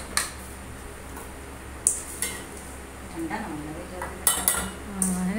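Sooji ladoo mixture is scooped into a metal vessel, with a few sharp metallic clinks and scrapes of spoon against steel spread over a quiet background, a voice faintly heard.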